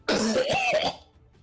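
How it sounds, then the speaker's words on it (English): A single short, rough cough or throat-clearing close by, fading quickly into quiet. "You've been coughing quite a lot"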